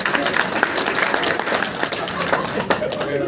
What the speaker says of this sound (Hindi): जोरदार ताली हमारे स्टाफ के लिए